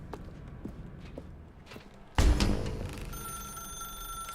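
A telephone rings in the video game The Stanley Parable, its bell cutting in suddenly and loudly after a quiet stretch of faint footsteps, then continuing as a steady sustained ring.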